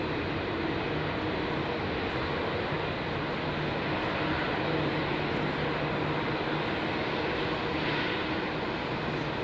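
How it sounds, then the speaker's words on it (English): A jet airliner departing Heathrow at full power on a wet runway, giving a steady, loud, broad roar that holds for the whole stretch with little change. "Full power departures."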